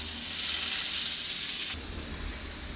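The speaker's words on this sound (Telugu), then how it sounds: "మనం పచ్చిమిరకాయలు ఎల్లుల్లి ఉల్లిపాయలు అయితే వేసుకోవాలి" Green chillies, garlic and onions frying in hot oil in a pan for a crab curry: a loud, steady sizzling hiss that shifts and deepens partway through as the pan settles, close by with no talk.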